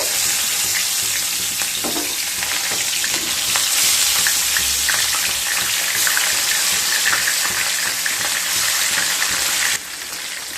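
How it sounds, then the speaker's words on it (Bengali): Bhola fish fry in hot mustard oil, giving a loud, steady broadband sizzle that crackles and spits continuously, with a slight drop in intensity near the end. "এবার মাছগুলোকে ভেজে নেব।"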